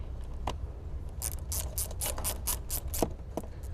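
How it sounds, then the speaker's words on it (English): A 10mm bolt being tightened during a footwell light install in a 3rd Gen Toyota Tacoma, a run of quick, evenly spaced ratchet clicks close by, preceded by a couple of isolated taps. "we'll install that 10mm bolt here. Then go ahead and tighten it down."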